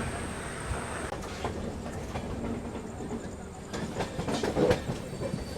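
Mumbai Duronto Express running on rails, heard from on board as a steady rumbling ride with rhythmic wheel clatter and occasional squeal, with speech mixed in.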